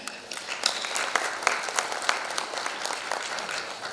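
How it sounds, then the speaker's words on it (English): Audience at an architecture and interior design debate event in Coimbatore applauds, a medium-sized crowd clapping with distinct individual claps audible in an uneven, lively rhythm. "A huge round of applause for him."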